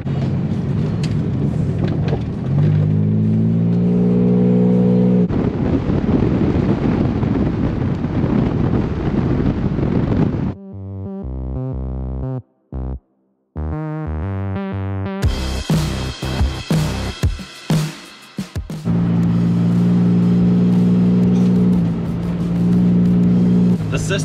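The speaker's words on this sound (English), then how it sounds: "I'm channeling every ounce of my Ken block I have into me to keep this car moving at a pace that keeps up with them" A Pontiac car is driven hard over a rocky, rutty back road, its engine droning loudly with wind buffeting the microphone, brief cutouts and jolts partway through, and some talking over the noise.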